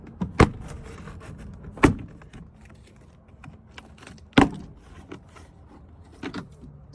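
Plastic clips pop loose one at a time as an Isuzu NPR truck door panel is pried off, sharp close snaps spaced a second or two apart with faint handling rustle between.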